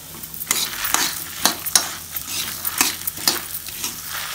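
Fenugreek and cumin seeds roasting in a pan over a low flame, with a steady soft sizzle broken by repeated scraping stir strokes at a close, moderate level.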